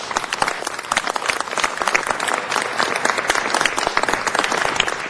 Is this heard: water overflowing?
no